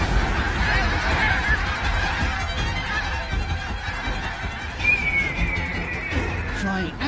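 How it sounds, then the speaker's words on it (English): A flock of geese honks loudly and continuously in panic as golden eagles attack them over steep slopes, a dense chorus of overlapping calls throughout. "In their panic, geese collide with one another."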